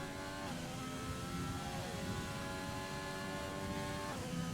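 Racing car engines from the F1 2020 video game at a Vietnam circuit drone continuously with shifting pitch as cars pass, a steady loud mechanical whine layered with several overlapping engine tones throughout.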